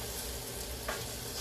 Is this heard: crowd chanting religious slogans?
no